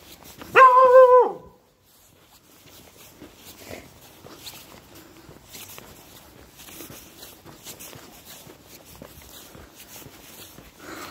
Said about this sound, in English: you just get randomly told off by dogs